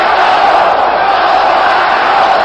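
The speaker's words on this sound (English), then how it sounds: "The crowd roaring for its national champion, Gray" Boxing arena crowd roaring for national champion Clyde Gray in his bout with Jose Napoles, a loud, steady wall of cheering and yelling that holds without a break.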